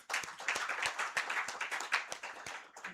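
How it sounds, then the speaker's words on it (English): Audience clapping at a corporate gender accountability network launch event in Uganda, a close group applause of dense overlapping handclaps with distinct sharper claps standing out, steady and lively throughout. "Let's clap for ourselves."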